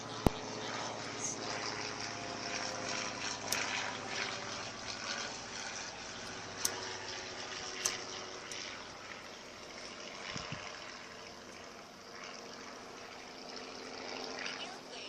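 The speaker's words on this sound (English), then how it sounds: "Airplane." A small propeller plane flying overhead, a faint steady drone in the background of a quiet outdoor scene, with a few sharp clicks.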